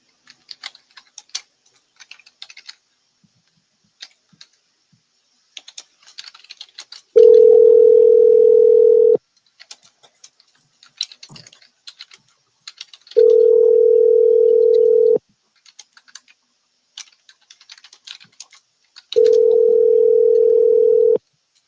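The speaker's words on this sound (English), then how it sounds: "let me see if we can get Minister Brian on the phone here this morning" A telephone dial tone sounds three times in steady two-second bursts while a call is placed, with clicks and small handling noises filling the gaps between tones.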